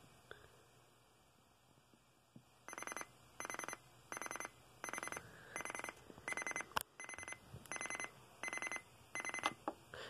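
A 2004 Sony under-cabinet CD player clock radio sounds its alarm after a quiet start: a loud, rapid series of bright electronic beep bursts that repeat in an even rhythm for several seconds.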